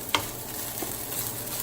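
Fried rice with onion powder is stirred in oil in a hot pan, one sharp scrape at the start and another soft one later over a steady close sizzle, with no voices.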